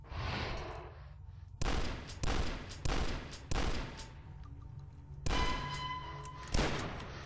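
Shotgun blasts in the video game DUSK, about seven loud, punchy shots with short reverberant tails at roughly regular intervals, with game ambience between them.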